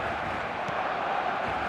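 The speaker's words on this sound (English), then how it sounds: "the crowd level has gone up a notch or 10" A stadium crowd in the eFootball video game roars loud and steady, a dense continuous wall of cheering with no pauses.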